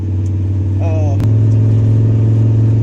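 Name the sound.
truck engine noise while driving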